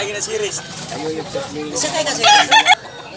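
A rooster crows at a busy chicken market where fowl are being sold, with several crowing calls and clucks close by, mixed under people talking nearby.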